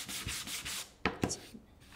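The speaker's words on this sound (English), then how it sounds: "When you are sanding, you always want to go with the grain of the wood." A sanding block rubs back and forth along wood with the grain, four quick rhythmic scraping strokes followed by a couple of sharper knocks and a lighter stroke, close and alone.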